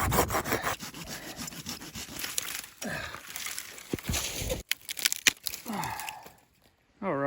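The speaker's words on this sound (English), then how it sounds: "All right, I found a dead tree. This thing's getting cut down." A saw cuts through a dead tree for firewood in snowy backcountry woods, with rough back-and-forth strokes in uneven bursts, short pauses and a final quiet gap before the sawing resumes.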